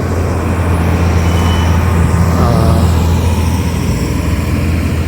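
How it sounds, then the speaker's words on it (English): Heavy vehicles, mostly lorries, rumble past on a rural road through farming country in Kabiti, Murang'a, Kenya, making a loud, steady low engine drone with road noise that swells slightly midway. "we also can see the vehicles are mostly lorries because they go to the farming areas"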